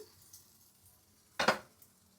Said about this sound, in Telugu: ఇవి స్టవ్ మీద పెనం పెట్టేస్తున్నాను